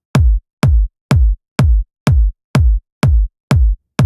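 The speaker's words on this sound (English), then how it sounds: "So of course that is going to be the kick." A punchy tech house kick drum hits eight times in an even, steady rhythm, each hit deep and booming with a short decay and silence between.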